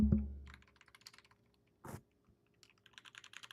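Keys clack in quick, close, irregular runs on a heavy computer keyboard. A short thud breaks the typing midway, and the clicking then resumes. No talk.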